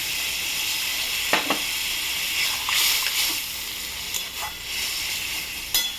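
Fish curry of morola fish sizzles steadily in a pan on the stove, with a continuous bright frying hiss and a few clinks and stirring scrapes scattered through.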